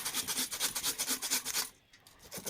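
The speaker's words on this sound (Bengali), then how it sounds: "আমার একে একে সব গাজরগুলো গ্রেট করা হয়ে গিয়েছে।" Carrots are rubbed against a grater in quick, regular rasping strokes, close and clear, for about one and a half seconds before the sound drops to a quieter scrape.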